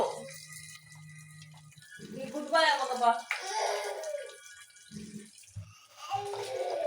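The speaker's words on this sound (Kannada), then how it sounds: "ನೋಡಿ ಫ್ರೆಂಡ್ಸ್, ಬೇಳೆನ ಚೆನ್ನಾಗಿ ವಾಶ್ ಮಾಡ್ತಾ ಇದ್ದೀನಿ." Lentils being washed by hand in water for black-eyed pea fritters, with soft sloshing and trickling heard under people talking.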